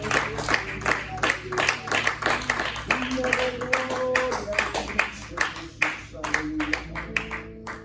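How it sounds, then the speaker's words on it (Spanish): A church congregation claps in a steady rhythm during worship, the sharp claps mixed with sustained keyboard music and voices singing or speaking over them. "Denle un fuerte aplauso al Señor en este momento."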